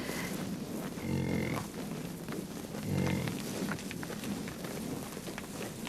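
A herd of buffalo on a farm lowing, with two deep moos at moderate distance against a steady outdoor hiss.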